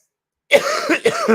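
A single close, loud cough after a moment of silence, rough and throaty with a short follow-up hack.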